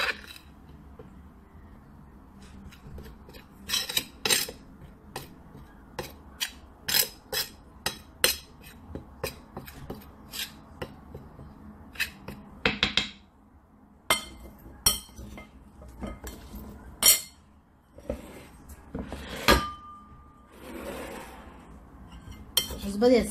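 Potato dish ingredients are stirred in a metal pot, producing a steady scatter of sharp clinks and scrapes of a utensil against the sides at close range, with a voice speaking softly in between.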